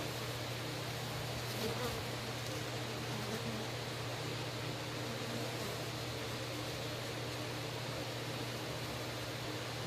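A dense swarm of bees buzzes in a steady, continuous drone, close and even throughout with no talking.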